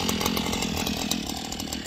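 A five-year-old string trimmer that needs a tune-up runs close by at a loud, steady buzzing whine, with a rapid rattling pulse throughout and no voices.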